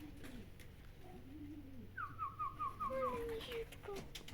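Racing pigeons coo at a loft during a young-bird race, several soft rolling coos and a few whistled calls at moderate distance over a quiet background.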